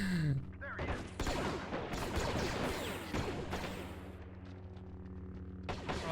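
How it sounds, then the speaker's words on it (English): Dense gunfire crackles in the Men of War Star Wars Galaxy at War mod as battle sounds pile up into a loud, continuous fusillade with bursts and impacts. Someone talks intermittently over the shooting. "Everybody's shooting."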